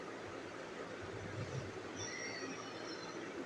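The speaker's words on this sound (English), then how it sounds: "Amtrak train number 1150, which is 189, was headed straight towards them" An Amtrak passenger train rolls along the tracks with a steady, fairly faint rumble, light wheel squeal and rail clatter, and no voices.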